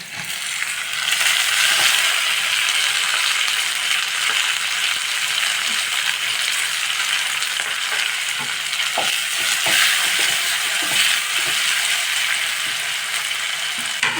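Tomatoes frying in a pan with capsicum for spicy capsicum rice: a continuous close hiss and sizzle with occasional stirring scrapes and clicks, loud and steady throughout without talk.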